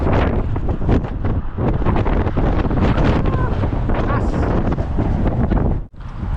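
Strong wind buffets the microphone at Hoover Dam, a loud, continuous rumbling roar with gusty surges that never lets up, briefly dropping out near the end.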